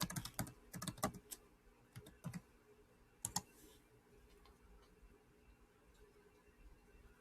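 Quick bursts of typing on a computer keyboard to sign in, with close clicking keystrokes in clusters during the first few seconds, then a quiet room with faint background hum.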